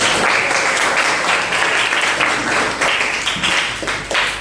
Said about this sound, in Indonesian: Tepuk tangan dong untuk Arya